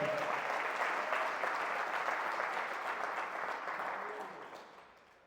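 Church congregation applauding together, a dense wash of clapping that holds steady and then fades out over about five seconds, with no speech.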